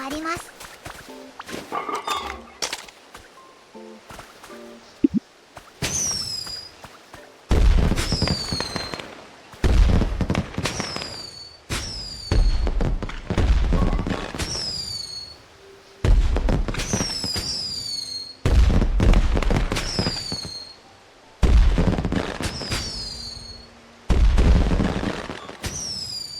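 A series of fireworks in the video game Pokopia launch with whistling rises and booming bursts, about a dozen in a regular rhythm, each followed by crackling decay.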